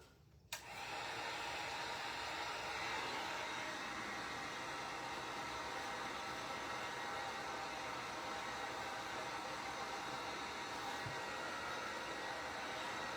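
A hair dryer blows steadily on a freshly painted DIY fall sign, a loud, even whooshing roar that switches on abruptly and runs without a break.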